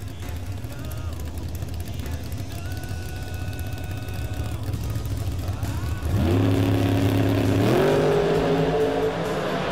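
A Beretta and a Camaro launch side by side in a drag race, engines rising through gear changes and swelling louder toward the end, with crowd noise and an announcer's voice underneath.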